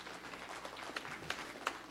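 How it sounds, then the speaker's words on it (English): An audience at a national debate in Belize City gives a round of applause for two schools, a faint, steady wash of many hands clapping from a distance. "So once again, a round of applause for these two schools."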